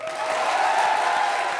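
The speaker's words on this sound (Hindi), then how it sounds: "जोरदार ताली बजाओ फिर" A studio audience at the comedy show Comedy Circus Ka Naya Daur breaks into steady applause, a dense, even wash of clapping that holds for a moment without pause.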